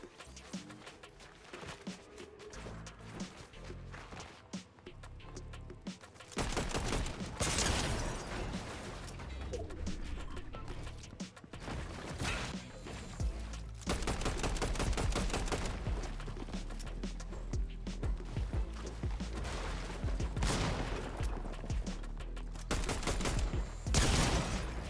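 Gunfight in the video game Fortnite: long stretches of rapid automatic fire and sharp bursts, with occasional booming impacts. The shooting is loud and nearly continuous, with brief quieter gaps.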